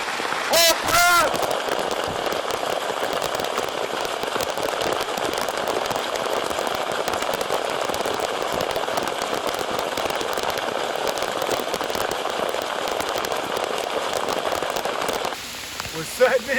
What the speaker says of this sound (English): I'm sure if you can't see how hard it's raining, you can hear it on the roof of the rickshaw.